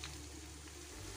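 Onion, green chili and garlic fry in a pan, giving a faint, steady, even sizzle with no talking.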